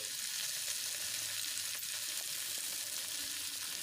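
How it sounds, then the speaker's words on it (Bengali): Vegetables and capsicum for chowmein fry in a pan, giving a quiet, even, unbroken hiss of sizzling with no talking. "বেশ সবজিগুলো এখন ভাজা হয়ে গেছে"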